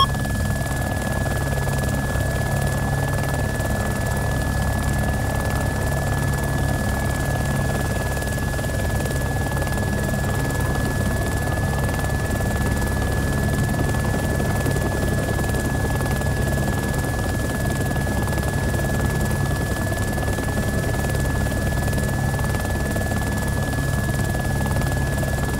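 Little Bird helicopter in the game Arma 2 flying in to land, a steady loud rotor and turbine drone that holds constant with no talk.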